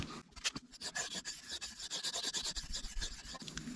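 Cold Steel 4 Max Scout knife blade drawn across a Shapton 1000 whetstone, giving a steady series of close, rhythmic rasping strokes with no talking.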